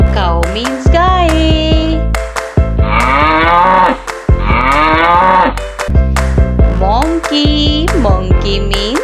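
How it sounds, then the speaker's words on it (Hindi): Cattle moo repeatedly at close range, several long, loud lowing calls separated by short pauses, with one cow answering another. "Cow means guy."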